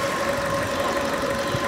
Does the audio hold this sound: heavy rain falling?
no